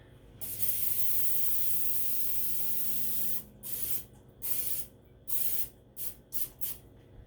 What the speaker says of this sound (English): I'm going to spray the bottom and the sides and make sure I get it all nice and covered